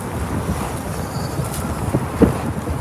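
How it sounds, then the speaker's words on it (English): Strong wind buffets the microphone on a New Forest open-top bus tour, a constant rumbling roar with gusty thumps throughout, loud and close, with no talk. "Really windy"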